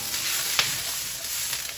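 Pork fried rice sizzles in a hot pan with sesame oil, a steady bright frying hiss with a brief louder spatter, close up.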